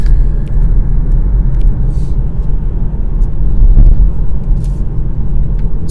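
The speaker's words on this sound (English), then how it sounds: "foot off the throttle, and we're just coasting towards the roundabout at a perfect speed" A Hyundai Kona Electric coasting toward a roundabout with regenerative braking at recuperation level 2, heard from inside as a loud, steady low road rumble and tyre hum, no talking.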